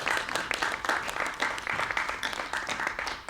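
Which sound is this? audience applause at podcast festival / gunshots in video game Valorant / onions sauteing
audience applause at podcast festival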